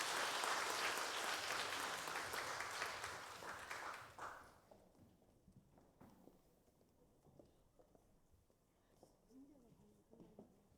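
A church congregation applauds during a Sunday afternoon service, a dense wash of clapping that fills the first four seconds and then fades into quiet room noise with scattered faint sounds.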